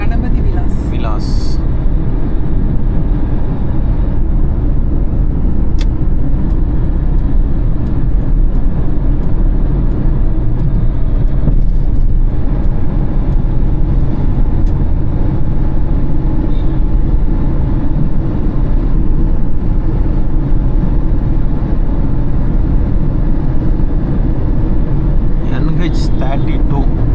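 Car cruising on the NH32 national highway between Chennai and Tiruvannamalai, heard from inside as a loud, constant low road rumble and engine drone with a few brief higher clicks.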